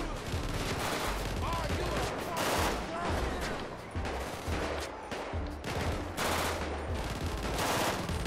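Heavy gunfire from a gang shootout in the video game GTA V rattles on without a break, with dense bursts of automatic fire and shots overlapping. It is loud and close, and faint talk sits under it.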